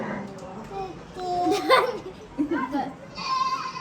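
A toy goat gives a warbling, wavering bleat near the middle of the clip, loud and close, inside a family home with children's voices and chatter around it.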